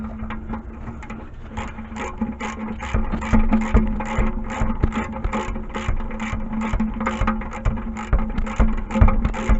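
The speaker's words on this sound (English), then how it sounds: "We're going to go ahead and ratchet that." A ratchet wrench tightens the oil drain plug on a 2011-2015 Kia Optima during an oil change, giving a steady run of rapid, close mechanical clicks in regular bursts with no talking.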